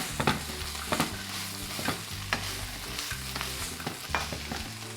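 Tofu being stirred into a paste in a hot pan for crispy tofu with lemongrass, with steady sizzling and frying under repeated scraping, stirring strokes of a utensil, close up.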